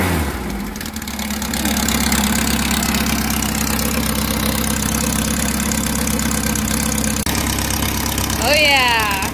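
A classic VW car engine idles steadily and loudly throughout after warming up, with a brief rev near the end.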